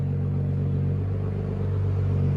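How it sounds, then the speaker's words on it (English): BMW M3 with a 3.0-litre twin-turbo inline-six, heard close as a steady deep idle rumble with a slight rise of revs, no voices over it. "BMW M3. This is at idle, it's 85, 90. Give it gas."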